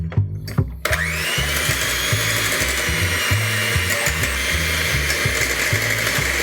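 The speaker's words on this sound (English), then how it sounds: "Gently we start to mix everything." Savoury cake batter with about 100 ml of olive oil is mixed in a bowl, a continuous close whirring churn with a regular low rhythmic pulse, starting abruptly after a brief moment of quiet.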